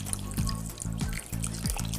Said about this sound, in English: So now I'm going to add some water.